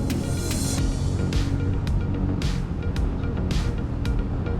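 Royal Enfield Meteor 350 motorcycle engine droning steadily and loud throughout, with periodic surges and breaks in the exhaust note as the rider shifts through the gears, wind rush blending in.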